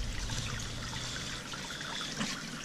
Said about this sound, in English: the water will go out that end over the waterfall